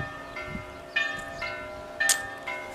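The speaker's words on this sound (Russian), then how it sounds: "Колокола у нас тут бьют, у нас церкви тут кругом." Church bells ring out in a Spanish town, repeated bright metallic strikes every half second or so with lingering overlapping tones, moderately distant over faint background noise.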